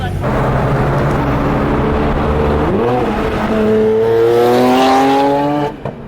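A GT3 sports car's engine revs up through the gears while driving, loud and close, with rising pitch sweeps and a brief shift dip midway before climbing again and cutting off near the end.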